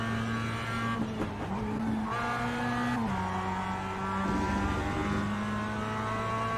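A race car in a racing video game spins out, with engine tones shifting and tires squealing over a steady, continuous motor drone throughout.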